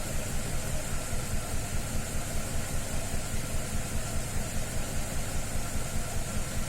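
A 2007 Mercedes-Benz ML63 AMG engine runs with a misfire, a loud, dense, continuous engine drone with a regular pulsing throb throughout, heard close with no voices.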